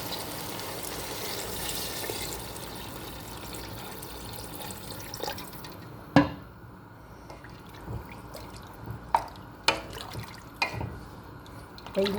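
Water trickles and drips into a cooking pot set on the stove, a steady pour at first that thins into scattered splashes and drops, close and moderately quiet.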